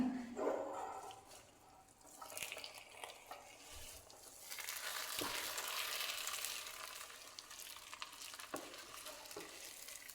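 Fried coconut kootu curry being stirred in a pan, a steady scraping and sizzling that swells and fades across the clip with occasional sharper clinks, alone without talk.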